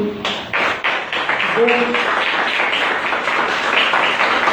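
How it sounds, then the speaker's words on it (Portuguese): A church congregation breaks into sustained applause after a prayer, many hands clapping in a dense, steady wash that fills the room, with a voice briefly heard over it. "Vamos aplaudir ao Senhor."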